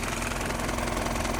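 A car engine idles steadily at about 680 rpm, a continuous low, even rumble with a faint rhythmic knock running through it, close and alone with no talking.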